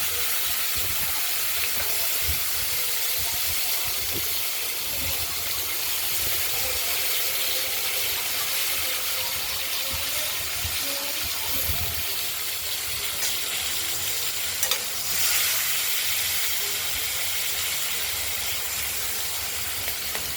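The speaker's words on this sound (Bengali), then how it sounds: "আলুগুলো একটু ভাজা হোক" Potatoes fry in a pan for a rohu fish curry, giving a continuous close hiss and crackle that runs steadily with no voices.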